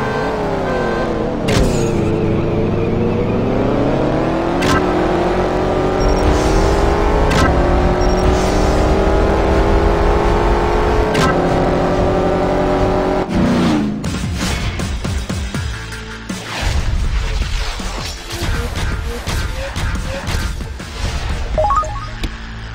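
A Chevrolet Camaro SS engine in the CSR Racing mobile game revs loudly and continuously, pitch climbing and dropping through gear changes, then gives way to a busier burst of clicks and engine noise near the end.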